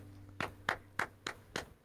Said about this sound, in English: Everybody, come on. Round of applause.